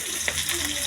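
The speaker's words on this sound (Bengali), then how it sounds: "আজকে যে মাছ ভাজি করতেছি" Fish fries in a pan with a soft, continuous sizzle, fairly close and even, over a faint low hum.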